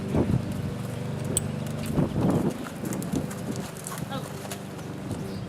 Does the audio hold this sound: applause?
no